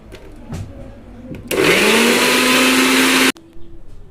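A kitchen mixer grinder whirs loudly for about two seconds, a sharp motor whine rising in pitch as it spins up, then cuts off abruptly, with quieter handling clatter before and after.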